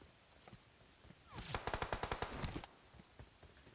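Rapid automatic gunfire bursts out in PUBG Mobile, a quick run of about a dozen sharp cracks lasting roughly a second, loud against a quieter game background with faint scattered shots before and after.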